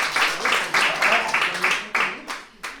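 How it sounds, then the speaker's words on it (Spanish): Audience applause for a panel speaker at a Latin American and Caribbean congress, heard as short bursts of clapping that start and fade repeatedly, with a voice speaking between and over the bursts. "Vamos a dar un aplauso a Rachel."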